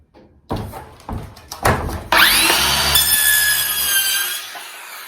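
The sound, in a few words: Ryobi 18V 6.5 inch circular saw cutting cardboard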